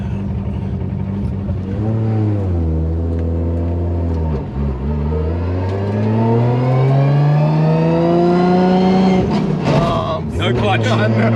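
Nissan R32 GTR with a straight-cut dogbox accelerating hard from inside the car, the loud engine note sweeping up and down through the gears with a clear rising pitch toward the end.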